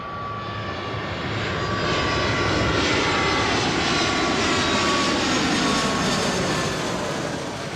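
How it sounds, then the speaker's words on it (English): An aircraft engine roars steadily at Charlotte airport, a loud, broad jet-like rush that swells slightly in the middle and holds for several seconds with no voices. "We are at the airport in Charlotte."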